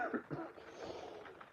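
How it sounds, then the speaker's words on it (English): A man coughs and clears his throat a few times in quick, rough bursts, close and fairly quiet, with no speech over it. "Pardon the coughing. That is not part of the show."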